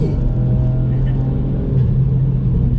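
A remapped Ford Fiesta ST Mk8 accelerates hard while overtaking, its engine a low, steady rumble from inside the cabin, partly under a person talking.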